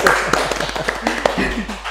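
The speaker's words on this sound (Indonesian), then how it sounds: "kita beri tepuk tangan ICPS" Students applauding the ICPS investor community group at a university, a short burst of quick scattered claps at close range, with talk mixed in.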